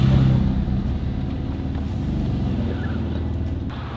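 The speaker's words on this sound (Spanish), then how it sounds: "Me voy a mover con el carro." A car rumbles with a low, steady engine drone as it is moved along a road, close and continuous, easing slightly in loudness with no talking over it.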